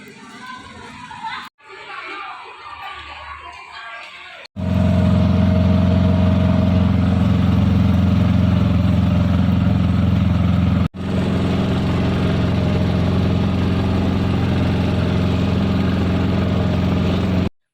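An auto rickshaw engine drones loud and close during a ride home, a steady low rumble with a short break midway, preceded by a few seconds of quieter background noise.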